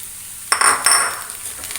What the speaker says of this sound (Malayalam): അതും ഇതേപോലെ നമുക്ക് നന്നായി മിക്സ് ചെയ്തെടുക്കാം